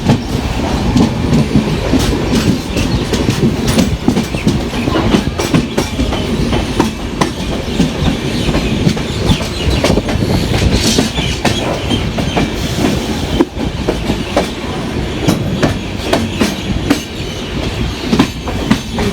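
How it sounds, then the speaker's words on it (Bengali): A train rumbles loudly through Pathankot railway station, wheels clattering in a steady clickety-clack rhythm with occasional metallic squeals, close and continuous. "এটা হচ্ছে পাঠানকোট রেলওয়ে স্টেশন"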